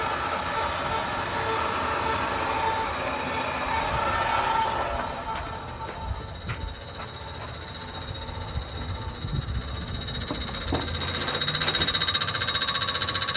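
A CNC machine's hydraulic lines, with air in them, give off a rough rattling knock over a steady mechanical hum, thinning midway and then swelling louder and harsher toward the end.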